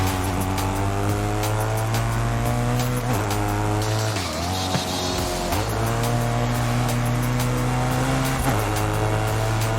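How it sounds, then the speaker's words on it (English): Forza Horizon 5 car engine screaming at very high revs, a buzzy raspy note holding steady with brief dips and re-climbs as gears change, loud and close throughout. "Not a particularly appealing engine note coming out of this car."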